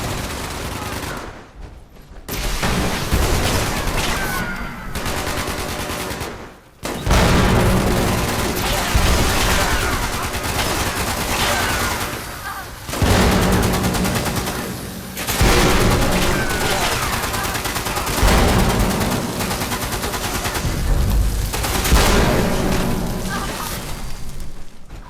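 Sustained Gatling laser gunfire from enemies in the Fallout 76 video game, loud and continuous rapid bursts with brief pauses between volleys, mixed with booming impacts.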